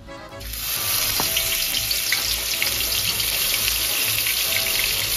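Garlic, ginger and green chillies hit hot olive oil in a pan for a prawn pulao, bursting into a loud, steady, close sizzle that continues without a break.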